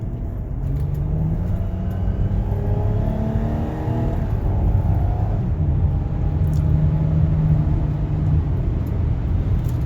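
A 2015 Chrysler Town & Country minivan with a 283-horsepower engine pulls away from a turn, a steady engine drone rising under a rumble of road noise and cabin hum that lasts the whole stretch, with no voices.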